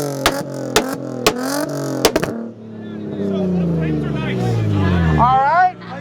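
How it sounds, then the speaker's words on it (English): At a car show, a tuned car fires a rapid series of sharp exhaust pops and bangs from a two-step launch control, then the engine revs up in a long rising, falling roar while a crowd murmurs. "Is that backfire or two-step?"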